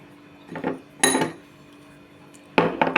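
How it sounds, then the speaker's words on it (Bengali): Cashew powder and milk powder mixed in a pan for cashew barfi, heard as three separate bursts of spatula scraping and clinking against the metal, close with quiet gaps between. "খুব ভালো করে এটাকে পুরো পাউডারটার সঙ্গে খুব ভালো করে কিন্তু মিশিয়ে নিতে হবে"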